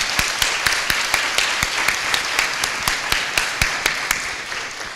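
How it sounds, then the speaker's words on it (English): A community gathering breaks into a round of applause: close, crisp claps ring out over a dense, continuous wash of clapping at a loud, steady level throughout. "I think that deserves a round of applause."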